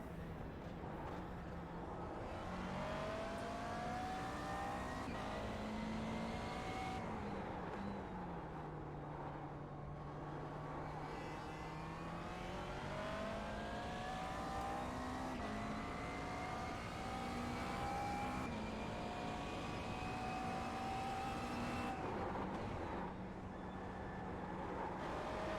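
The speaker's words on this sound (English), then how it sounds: "This Mclaren actually sounds really nice." A McLaren MP4-12C GT3 race car engine in a racing game drones steadily throughout, its pitch rising and falling through gear changes as the car accelerates and lifts, loud and continuous with no talk.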